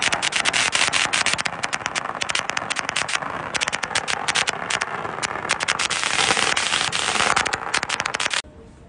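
Long string of firecrackers at a Thai vow-fulfilment ceremony in Pathum Thani, fifty thousand rounds going off in dense, rapid, loud crackling bursts for about eight seconds before cutting off abruptly.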